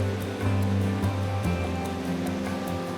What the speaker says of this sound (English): Now that's some wild water right there.